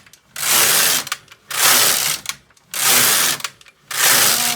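A Needle Beetle knitting machine carriage sweeping back and forth across rows of a tuck stitch, giving four loud whirring passes about a second long, each separated by short clicks and pauses.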